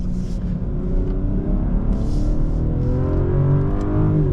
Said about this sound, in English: Let's try Sport Plus. See how she takes this first corner.